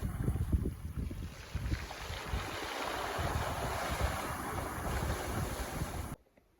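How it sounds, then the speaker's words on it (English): Rocks on a rocky bar along a Newfoundland shore wash and rattle back as the tide drains out, a steady close rush of water and tumbling stones with wind noise, lasting about six seconds before cutting off. "I love the sound of rocks back flowing after the tide."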